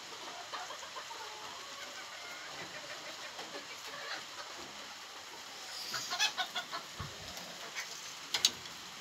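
Bantam hens, some with small crests, clucking quietly in a farmyard pen, with a few soft scattered clucks early and a quick run of short clucks toward the end.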